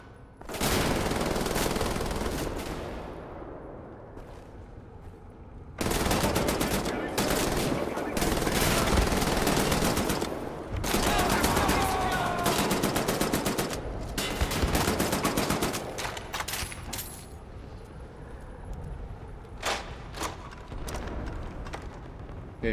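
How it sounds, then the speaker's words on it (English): Rapid automatic gunfire and bursts of shots aimed at the player during a combat sequence in the PC shooter Wolfenstein: The New Order, loud and dense throughout with brief lulls, layered with game effects. "Someone is shooting at me."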